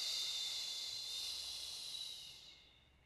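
A long, steady breath exhaled during a core and balance exercise, a soft airy hiss that holds for a couple of seconds and then fades out, close and quiet with no talk over it.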